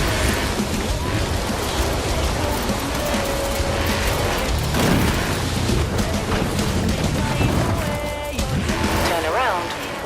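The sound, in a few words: Mini X-Raid Countryman rally car engine in the video game Forza Horizon 4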